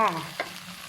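Pork belly sizzles in a hot pan while being stirred for fried rice, a brief close frying crackle with one small scrape.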